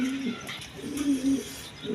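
A pair of Pakistani Peshawari Lahori pigeons coo in a few low, throaty warbling phrases, close and moderately loud over a soft ambient hum.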